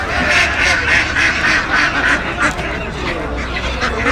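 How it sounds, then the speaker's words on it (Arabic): Local domestic ducks, white and brown, quacking in a busy, steady chorus of overlapping calls close by throughout. "فراخ البط البلدي، البط البلدي الابيض الاسمر"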